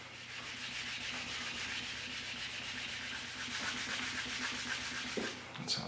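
Big dry sanding pads rubbed over cured resin make a steady, rapid scratchy rasping from close by, a quiet back-and-forth texture that keeps going for several seconds, then ends with a couple of soft knocks.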